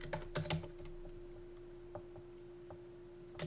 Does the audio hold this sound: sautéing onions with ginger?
no